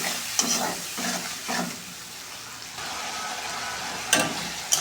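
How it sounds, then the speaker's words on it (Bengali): Spice paste with turmeric and salt frying and being stirred in a pan, a steady close sizzle with scraping strokes and a few sharper clinks of the spoon against the pan. "হলুদ লবণ আর ধুয়ে মশলা কিছুক্ষণ কষাতে থাকবো"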